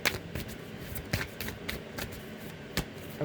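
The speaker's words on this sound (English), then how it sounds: "Let's get a good shuffle here." Tarot cards are shuffled by hand in a run of quick, crisp riffles and flicks, close and moderately loud, with sharp bursts scattered irregularly over a soft papery rustle.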